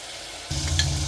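Tomato and onion cooking in a pan for tomato rice: quiet at first, then a sudden burst of sizzling and frying as the onion hits the pan, with a scrape of stirring, close and steady.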